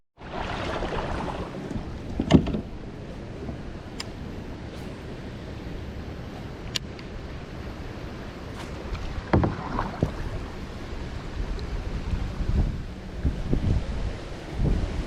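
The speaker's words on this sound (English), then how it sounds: "Wow, it is so windy" Strong wind buffets the microphone throughout a kayak outing on a creek, a constant roaring rush broken by occasional knocks and splashes of the boat and paddle, with no talking.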